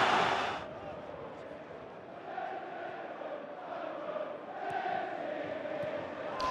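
Football stadium crowd at a Liverpool match roaring after a goal, a loud burst at first that settles into a sustained, swelling roar of cheering and chanting.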